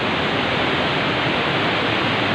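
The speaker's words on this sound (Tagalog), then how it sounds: "Lakas ng lagaslas ng tubig mga lodi guys" Loud, steady rushing water at a spot where motorbikes are allowed, a dense unbroken roar close by that fills the whole stretch without pause.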